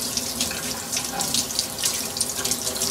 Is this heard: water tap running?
yes